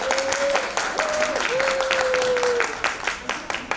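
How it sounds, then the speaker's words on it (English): Audience applauding at the 3rd annual Single Mothers Award ceremony, a steady wash of clapping throughout, with a sustained whistle-like tone rising above it at times. "Let us give her a round of applause."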